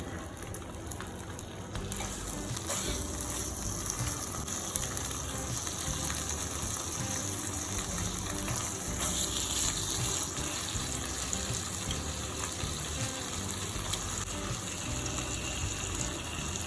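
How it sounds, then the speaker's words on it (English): Bacon strips crackle and sizzle in a single pan for a breakfast egg sandwich, a dense, even frying hiss that stays close and constant throughout. "Add in those delicious looking strips of bacon."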